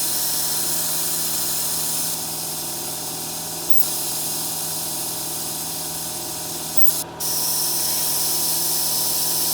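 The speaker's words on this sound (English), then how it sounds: "Our compressor will probably kick on, you get some noise." An air compressor runs steadily while dirt bike brakes are bled, a loud continuous hiss and hum that holds level throughout, with a brief dip near the end.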